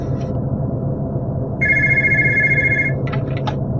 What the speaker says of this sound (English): and we have another phone call